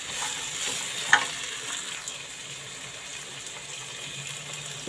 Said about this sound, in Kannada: ಒಂದು ಸಾರಿ ಮಿಕ್ಸ್ ಕೊಡಬೇಕು